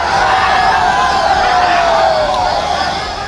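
A loud, dense roar of an unruly crowd of supporters at a Bihar election rally near a helipad, sustained cheering and shouting close by throughout.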